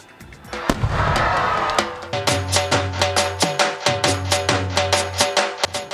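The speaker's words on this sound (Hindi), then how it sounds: "पटाखे फोड़े गए" Diwali firecrackers burst in Pakistan, a loud whooshing blast first, then a rapid string of sharp, crackling pops going off in quick succession nearby.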